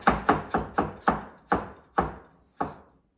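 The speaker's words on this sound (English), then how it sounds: "now I'm going to chop the gingers" Ginger is chopped into small pieces with a knife on a board, eight sharp, close chops in a steady rhythm that slows toward the end, with no talking.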